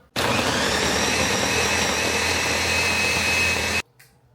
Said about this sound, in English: I'm gonna try to make sure I turn down the volume on that clip of the blender